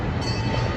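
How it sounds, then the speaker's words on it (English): A steady low rumble of an amusement park train rolling along the tracks at Indiana Beach, continuous and fairly loud, with a faint high metallic whine. "That's the train taking off over there."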